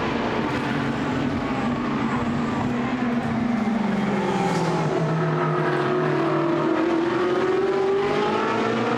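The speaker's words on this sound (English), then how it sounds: "Great to see these two Ferrari 458s doing battle on the run down the back stretch." Ferrari 458 GT race cars battling down the back stretch at Misano, a loud continuous high engine wail with rising and shifting pitch as the cars pass, heard on its own.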